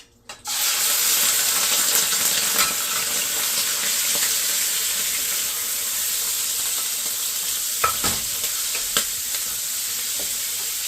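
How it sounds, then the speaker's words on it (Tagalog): Chicken sautéing in olive oil and cooking oil in a pan, giving a steady, close sizzle that follows a sharp onset as it hits the hot oil, with a few stirring clinks later on. "Maggisa muna tayo ng chicken."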